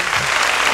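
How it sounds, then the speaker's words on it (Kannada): A brief, loud patch of audience clapping at an event, dense and steady for under a second. "ಹೊಡ್ರಿ ಚಪ್ಪಾಳೆ."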